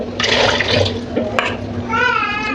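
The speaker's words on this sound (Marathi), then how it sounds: "आता ह्यात पाणी ओतून आपण मस्त" Water pours and splashes over boiled bitter gourds in a kitchen pot, a steady close liquid rush lasting a couple of seconds, with a voice speaking briefly near the end.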